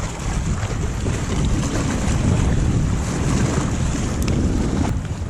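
Strong wind buffets the microphone at Pyramid Lake, a loud continuous roaring rush with gusty swells throughout and no talking.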